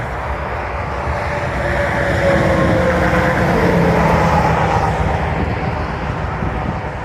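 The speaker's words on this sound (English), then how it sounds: "Sorry for the traffic noise." A steady, broad roar of passing vehicles on a road beside the Albany-Hudson Electric Trail between Valatie and Nassau, New York, swelling slightly in the middle, loud and continuous with no talking.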